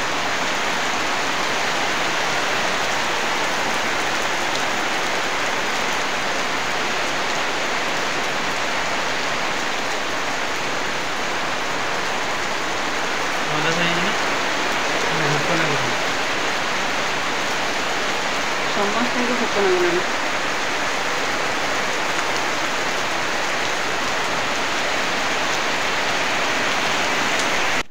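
Heavy rain pouring down, a dense, loud, steady hiss filling the whole stretch, with a voice speaking briefly under the downpour partway through.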